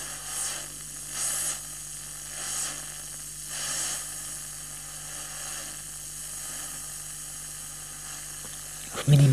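A self-built FM radio gives off constant static hiss with a low mains hum while it is adjusted. Faint speech-like swells rise and fall through it, and a sharp louder burst comes at the very end.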